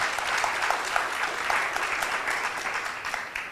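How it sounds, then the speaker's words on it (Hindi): An audience at an inaugural session of an educational event applauds the governor, with dense, steady clapping lasting several seconds at moderate volume. "हम लोग एक जोर से ताली हमारे राज्यपाल जी के लिए बजा सकते हैं।"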